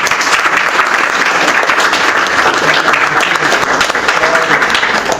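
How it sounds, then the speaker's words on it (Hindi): Audience applause at a stage performance, sustained dense clapping at steady loudness throughout, close and full with no pauses. "ताली होबाक चाहिए मंच।"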